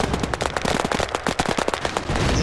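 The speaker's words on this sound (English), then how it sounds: "This gun doesn't sound very good like this, does it?" Rapid bursts of automatic gunfire from a machine gun in the combined-arms crafting video game Battlerush 2, with closely spaced, sharp shots crackling steadily and loudly throughout.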